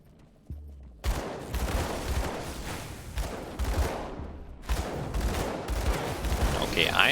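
Dual pistol gunfire from a Purifier in Grim Dawn: rapid, dense bursts of shots in two main volleys after a brief quiet start, loud and close.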